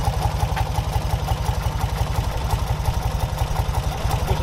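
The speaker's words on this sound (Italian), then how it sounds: "Ecco qua, il motore." A Fiat 500 engine idles close by with a steady, rhythmic low putter and a faint mechanical clatter over the whole stretch, with no voices.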